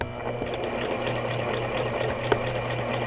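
Sewing machine running steadily as it stitches along a fabric edge with the presser foot guiding, a continuous close mechanical hum and whir with no talk.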